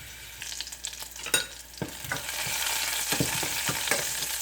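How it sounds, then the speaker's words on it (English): Garlic fries in a pan with a steady close sizzle, and scraping stirs and light knocks of a utensil break in over it. No one speaks. "Fry that up until it's brown"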